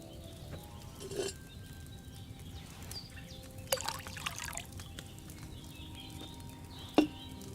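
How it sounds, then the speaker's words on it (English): Wine poured from a pitcher into a cauldron in the medieval game Kingdom Come Deliverance II, a quiet liquid trickle with a few soft splashes and clinks scattered over several seconds. "you have to pour the right base into the cauldron"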